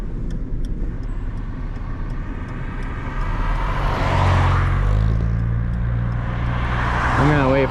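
A 2005 Saturn L300, which hesitates while driving, runs and drives with a steady engine rumble and road whir. Surrounding traffic swells and passes midway through.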